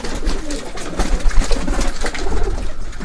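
Pigeons kept on a house rooftop coo loudly and steadily, with overlapping calls and wing and body shuffles over a low wind rumble throughout.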